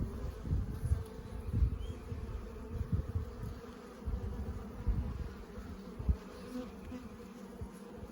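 Honeybees buzz at the entrance of a beehive split, a continuous low drone from many insects close by with small swells in loudness and no voices.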